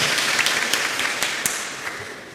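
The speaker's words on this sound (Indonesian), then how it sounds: "Tepuk tangan sekali lagi, luar biasa." Church congregation applauding during a parish anniversary Mass homily, a dense continuous patter of many hands with a few sharper individual claps, gradually tapering toward the end.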